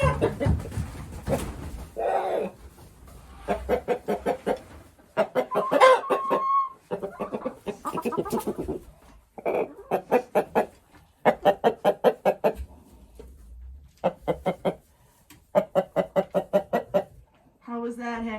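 Hens and a rooster, including a recovering injured bird, cluck in repeated close bursts and short rhythmic runs around a pen, loud and near, with brief pauses between calls.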